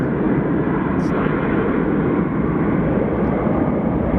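Airliner at Sky Harbor Airport in Phoenix, a steady broadband roar of engines that stays loud and constant throughout without clear rise or fall, like an aircraft close by on the ground or climbing out.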